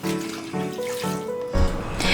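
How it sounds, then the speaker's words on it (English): Running tap water splashes steadily into a sink as gongura leaves are washed and drained in rounds for an Indian dish, close and continuous, with a heavier gush near the end. "Wash the leaves with running water, drain them, and do the same second round."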